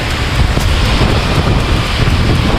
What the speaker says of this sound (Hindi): ये बहुत तेज हवा है